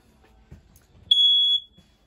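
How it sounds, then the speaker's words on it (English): A smoke detector mounted on the ceiling of a 2020 R.POD 180 camper gives a single shrill, steady beep lasting about half a second, close and loud in a quiet interior. "smoke detector up top"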